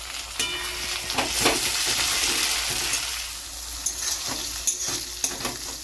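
Chopped tomatoes fry with golden-browned onions in a pan for bhuna chicken gravy. A continuous close sizzle is broken by scattered clinks and scrapes of a stirring spoon.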